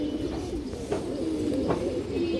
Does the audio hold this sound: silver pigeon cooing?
yes